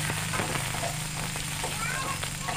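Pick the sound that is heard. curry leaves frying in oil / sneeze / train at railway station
curry leaves frying in oil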